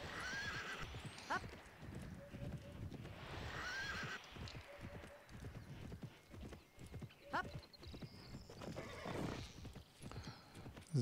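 Horse galloping with a steady clip-clop of hooves in the riding game Reiterhof, with whinnies and neighs breaking in now and then over a continuous game background.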